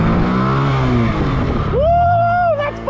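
Drift practice car accelerating, a close, loud engine rising in pitch into a strong sustained rev before easing off near the end.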